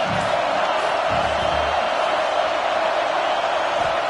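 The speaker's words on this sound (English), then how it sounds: "This crowd bringing the energy and noise early." A college football stadium crowd at Oregon vs Texas A&M sends up a steady, dense roar of cheering and noise that holds at a constant level throughout, with no clear voices standing out.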